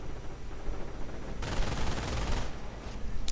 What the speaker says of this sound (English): MG42 fire, hoping to catch those airborne